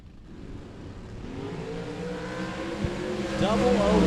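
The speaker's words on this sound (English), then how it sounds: "Carl in the Camaro Roadster. If you look closely, got a little Roots blower sticking out the hood." A drag-racing Camaro Roadster with a Roots blower sticking out of the hood, at a Las Vegas bracket race: the engine drones steadily and swells louder toward the end, heard from a distance.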